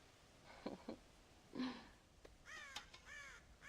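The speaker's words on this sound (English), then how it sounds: "God damn crows!" Crows cawing around a farm silo in the Red Dead Redemption video game, a few harsh caws at moderate distance, fairly faint with no talk over them.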